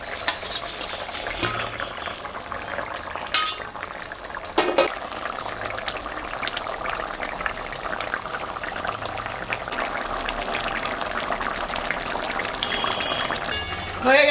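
A mustard-sesame fish curry gravy with brinjal bubbles and simmers steadily in a pot in a home kitchen, a continuous close hiss and sizzle with occasional clinks, with a voice speaking now and then over it.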